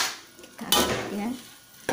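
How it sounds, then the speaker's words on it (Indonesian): A utensil scrapes and clanks against a pan while shrimp capcay stir-fry is stirred, a short close metallic clatter followed by soft scraping. "Kita aduk ya."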